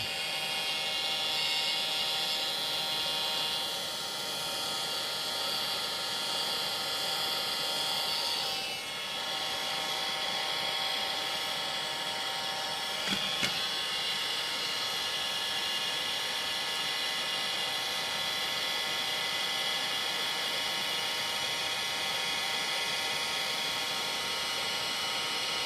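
Heat gun blowing on heat-shrink tubing over a charging cable, a steady whining hiss and airy drone held continuously for about twenty-five seconds, with a brief dip and a faint click partway through.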